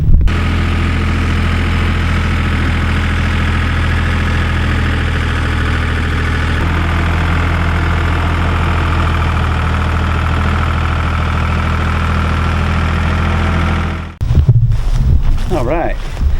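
An orange tractor's engine idles loud and steady with a deep, even chug in an open field for about fourteen seconds, then cuts off abruptly, leaving only faint wind and rustling.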